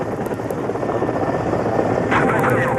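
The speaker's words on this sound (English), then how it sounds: "a dozen helicopters set off to begin the search for the returning cosmonauts" Several helicopters lift off together for a search-and-recovery mission for returning Soviet cosmonauts, their rotors giving a loud, steady, close-up thrum that swells slightly toward the end.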